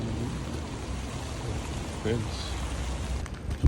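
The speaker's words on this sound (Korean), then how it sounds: "비가 좀 많이 오는데" Heavy rain falling in Prague, a steady wash of patter and splashes close by, with a few louder drops and faint indistinct voices in the background.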